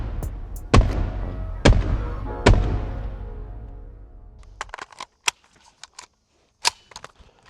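Gunshots from a handgun in a shooting drill at targets, three loud sharp reports spaced about a second apart, then a quicker string of fainter pops and clicks with gaps of quiet.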